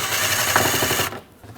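A power tool runs steadily while driving headlight bolts down on a 2007-2009 Saturn Aura, a continuous close whirring buzz that cuts off abruptly near the end, leaving quiet.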